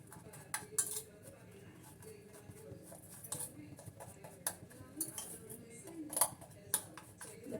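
A spoon clinks and scrapes in a bowl as a wheat-based snack filling is mixed, soft intermittent taps and stirring strokes at close range in a quiet kitchen.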